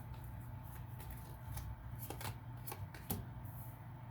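Tarot cards being shuffled and drawn, with quiet riffling and several sharp card snaps and flicks against a low, steady hum.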